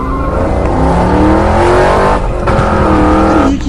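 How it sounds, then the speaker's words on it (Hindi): A cartoon car speeds off with a loud, close engine roar, revving upward in pitch with a brief tire-squeal-like whine as it races away. "ये चारों तो गाड़ी लेकर यहाँ से भाग रहे हैं।"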